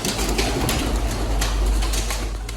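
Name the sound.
domestic pigeon cooing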